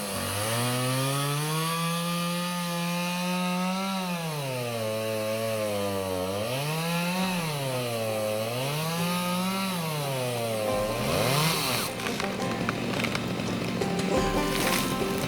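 A chainsaw bucking a felled tree into manageable pieces during volunteer land management work in Oregon, its engine loud and close, revving up and down in repeated swells as it cuts, ending in rougher, noisier sawing.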